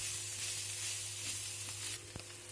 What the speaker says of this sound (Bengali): এখন সবগুলো আর একটু হালকা করে ভেজে নিতে হবে।